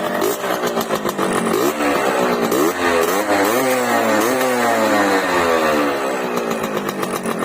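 A Yamaha RXK 135cc motorcycle engine revs hard and loud, its pitch climbing and falling in repeated high-rpm sweeps with a raspy, buzzing edge, no talking.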